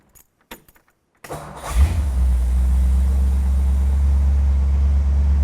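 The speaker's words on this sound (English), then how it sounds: "crank it up and see if the blower motor works" A classic car's engine cranks and catches after a few faint clicks and a short silence, then settles into a loud, steady idle with the AC blower motor running, droning on without pause.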